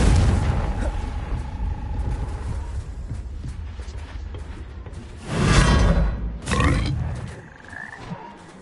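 In the Hogwarts Legacy video game, a Confringo spell blast goes off as a booming whoosh and explosion, with a second burst following closely over a rumbling game background.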